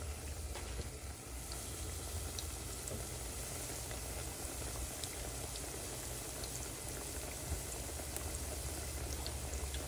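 Piyaju, Bangladeshi onion fritters, frying in oil over low heat for Ramadan snacks: a continuous dense bubbling sizzle, steady and close, with a few faint clicks and no speech.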